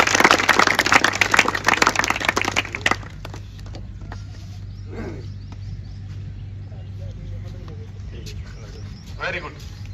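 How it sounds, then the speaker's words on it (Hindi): Classroom applause for a student who scored full marks on a test: loud, dense clapping for about three seconds, then it stops abruptly and quiet room noise with brief voices follows. "जोरदार ताली"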